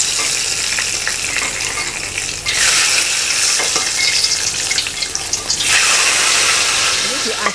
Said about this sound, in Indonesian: Ini diaduk-aduk terus seperti ini ya, teman semua.